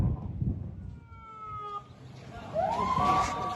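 Ambulance sirens wail as the vehicles arrive at Al-Aqsa Hospital in Khan Yunis, fairly faint and rising in pitch, with a crowd murmuring and voices nearby.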